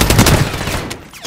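In a battle royale game, close, loud gunfire crackles in a rapid burst of overlapping shots that fades over about a second.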